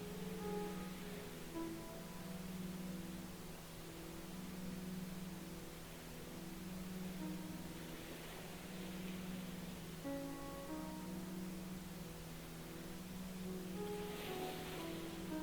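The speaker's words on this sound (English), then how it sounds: "keeping awareness of the pink noise in the background" Soft, steady pink noise ambience hisses continuously, layered with a low sustained humming drone that swells gently, even and unchanging throughout.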